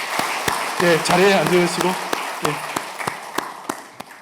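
Church congregation clapping in a Korean Sunday worship service, a brisk burst of applause that thins into a few scattered claps while someone speaks over it.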